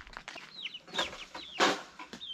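Chickens and chicks in a village coop: soft hen clucks mixed with high, thin chick peeps in quick overlapping bursts, close and fairly quiet, with no voices.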